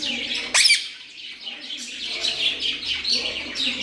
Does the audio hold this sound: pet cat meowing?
no